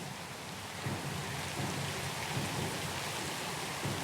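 Steady rainstorm at sea in the Pillars of Eternity II: Deadfire game, dense hiss of rain on surfaces with low thunder rumbling underneath, continuous and fairly loud with no voices.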